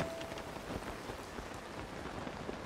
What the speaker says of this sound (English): Now it's already raining.